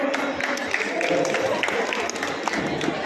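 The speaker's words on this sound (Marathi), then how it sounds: "जोरदार टाळ्या होऊ द्या" An audience at the Shashwat Park Kalavishkar 2025 stage event applauds, a dense wash of clapping from the crowd filling the whole stretch, with voices mixed in.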